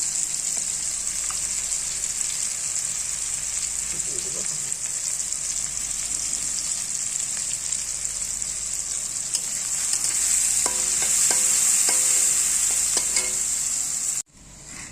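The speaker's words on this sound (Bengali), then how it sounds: "ডালটা কিন্তু আমি সম্বার করে নিলাম" Boiled dal being tempered in a pan, a steady close sizzle with stirring scrapes and a few sharp clinks near the end before it cuts off abruptly.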